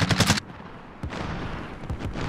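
Bursts of gunfire in Call of Duty: Modern Warfare, a loud rapid volley up front, then sparser scattered shots and a lingering battlefield rumble.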